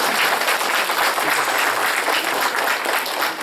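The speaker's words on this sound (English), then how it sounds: "So I believe that his dad deserves a big round of applause." Sustained applause from an audience at a Mahashivratri celebration in Milpitas, USA, steady and dense clapping throughout with no talking over it.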